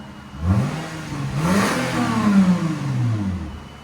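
A 2008 Lexus IS 250 with a 2.5L V6 and a Valvetronic Designs universal muffler revs several times up close on a cold day, its exhaust rising and falling in a loud, throaty sweep.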